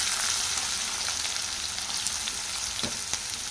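Onions and garam masala frying in hot oil: a steady, dense sizzle that stays even throughout, with a faint clink or two of stirring and no voices.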